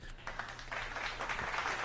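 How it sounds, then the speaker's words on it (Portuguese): Brief, faint applause for two debaters in a casual online debate show, a soft scattering of clapping lasting under two seconds. "Salve de palmas pros dois"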